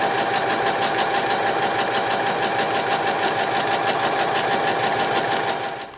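Sewing machine running a straight seam in fabric, a fast steady mechanical clatter and hum holding for several seconds before stopping at the end, close and unaccompanied by talk.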